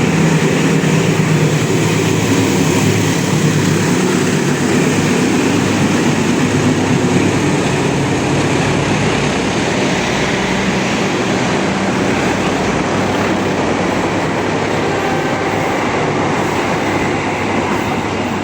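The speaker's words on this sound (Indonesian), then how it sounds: "Wijaya Kusuma melintas langsung." A passenger train roars straight through a station at speed, a dense, steady rush of wheels and rail noise that holds loud for the whole stretch.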